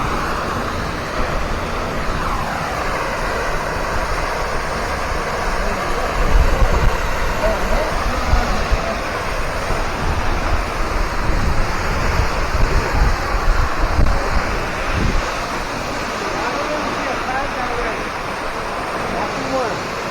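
Hemlock Falls in Cloudland Canyon roars steadily from behind the falling water, a loud continuous broadband rush with gusts of wind noise on the microphone, never letting up.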